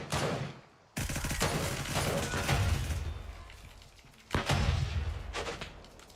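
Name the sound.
grenades exploding in Gray Zone Warfare video game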